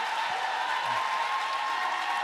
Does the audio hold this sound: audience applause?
yes